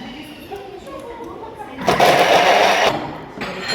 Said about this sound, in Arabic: غادي نطحنوها 20 سكوند فيتيس 10.